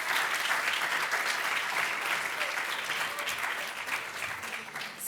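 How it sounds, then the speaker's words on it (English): Dense, steady applause from a large crowd at the closing ceremony of the 2011 Road to College Tour, filling the whole stretch with only a slight easing toward the end. "So give yourselves a big round of applause."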